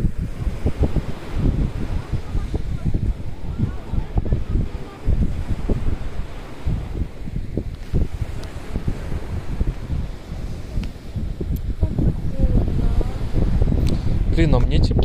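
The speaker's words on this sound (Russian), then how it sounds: "Видимо, весь ветер, он наверху." Steady wind buffeting the microphone in low rumbling gusts in Zelenogorsk, with a voice talking over it and a hint of water or surf underneath.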